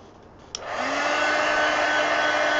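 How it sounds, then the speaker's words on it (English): A heat gun switches on with a click and runs as a steady, close blowing hum while drying coloring on a dragon page from Mythomorphia. "Now I'm going to dry this with the heat gun."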